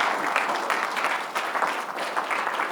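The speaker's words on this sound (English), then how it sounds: "Give Nathaniel a round of applause" An audience at a business forum on cryptocurrency gives a round of applause, a steady, dense patter of many hands clapping at moderate distance.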